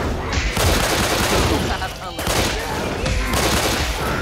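Gunfire in the video game Left 4 Dead 2, loud continuous bursts of shots with booming impacts and brief lulls, dense and close throughout.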